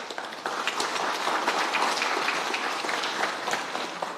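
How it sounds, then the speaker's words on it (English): Audience applause at the launch of a Pacific and global health research flagship centre, a steady dense patter of many hands clapping throughout, moderately loud and filling the room without talk. "give them a round of applause, please."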